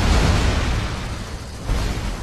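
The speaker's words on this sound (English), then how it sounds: "Oh, that's a big explosion." A big explosion in Dead Rising 3 on Xbox, a loud low boom that rumbles through the whole moment and swells again near the end, with game noise around it.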